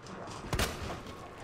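A single gunshot in the video game Resident Evil 2 Remake, one short sharp crack at moderate level over a steady background hum of game ambience.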